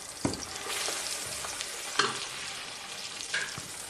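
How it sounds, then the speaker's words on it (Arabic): Boiled meat sautéing in a little oil in a pan, a continuous soft sizzle broken by a few sharp scrapes and taps of a stirring utensil. "راح اضيف له شويه من الزيت حتى احمسه مره ثانيه."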